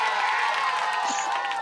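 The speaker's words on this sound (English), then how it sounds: "Colby, give a round of applause for that." A live show audience cheers and whoops in a brief, loud burst of crowd noise, with bright shouts over a dense wash of voices.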